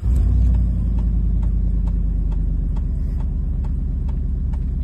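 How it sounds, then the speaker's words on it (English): A truck engine idles steadily after starting, a loud close low rumble with a regular ticking pulse, alone without talk while an alternator fitted with diodes is being tested. "I'm gonna start the truck."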